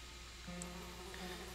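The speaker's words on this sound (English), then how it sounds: "It's one of those boxes full of bees." Bees buzz softly from a bee box in the video game Shadows Over Loathing, a faint steady drone with a brief higher tone near the middle.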